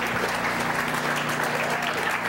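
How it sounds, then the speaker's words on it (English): Conference audience applauding speakers at a hacker convention, a steady, even wash of clapping from a crowd in a hall, sustained at constant level throughout. "Give him a round of applause."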